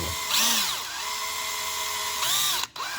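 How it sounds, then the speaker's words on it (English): A power drill whines up to speed twice, humming steadily in between, with a short cut-off near the end; close and clear. "I'm going to try and do my best to drill down"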